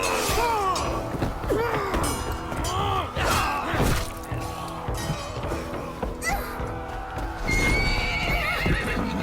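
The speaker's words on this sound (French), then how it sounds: "Oh, calme-toi, cheval." A horse in Assassin's Creed Valhalla whinnies several times in rising and falling cries over thudding hoofbeats and scattered impacts, loud and close, with brief game voices mixed in.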